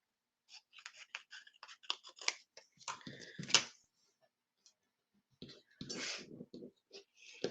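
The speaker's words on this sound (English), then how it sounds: "Then I just took my scissors and I trimmed straight down that line." Scissors trim straight down a line on a paper place card, giving a run of quick, close, crisp snips in two bursts separated by a short quiet gap.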